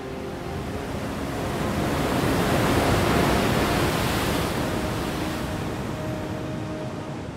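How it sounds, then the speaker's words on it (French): Indian Ocean surf breaking on the shore at Waingapu, Sumba: a broad, continuous wash of water that swells to a peak midway and slowly recedes, with no voices. "où expire le souffle des vagues de l'océan Indien"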